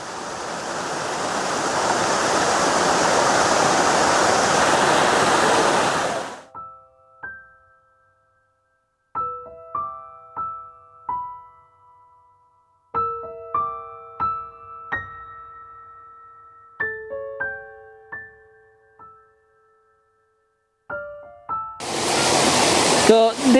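A curved waterfall in Karuizawa, Japan, in autumn gives a loud, broad rushing roar for about six seconds and returns briefly at the end, with a quiet stretch of sparse tonal chimes and beeps between.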